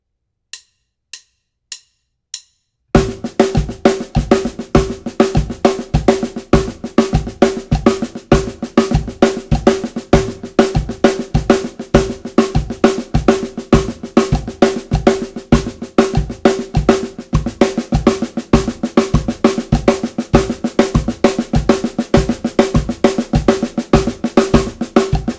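A few count-in clicks, then a drum kit plays a steady, even stream of three-stroke patterns with a regular bass drum pulse at 100 beats per minute.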